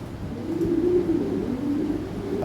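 A Lahori Sirazi pigeon coos softly and continuously in a low, rolling murmur, close by, with no talking.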